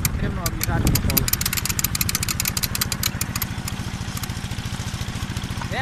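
A motor tractor engine chugs in a fast, steady rhythm as it climbs uphill, loud and close, with clattering and a voice speaking briefly early on.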